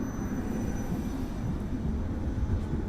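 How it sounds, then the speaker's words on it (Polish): The Radomiak accelerated passenger train bound for Skarżysko-Kamienna rumbles past a station in Warsaw, a steady low roar of wheels and motor that holds at a constant loudness, with no voices. "Pociąg osobowy przyspieszony Radomiak do Skarżyska Kamiennej"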